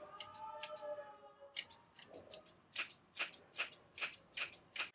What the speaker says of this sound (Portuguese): E eu vou vir com a tesoura aqui